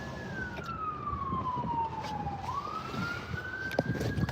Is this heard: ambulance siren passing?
yes